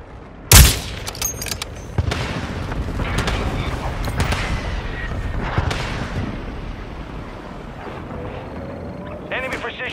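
Chopper gunner firing in the Modern Warfare 2 video game, a sharp loud blast followed by repeated gunfire and booming impacts over a rumbling battlefield, with a voice announcing in-game events.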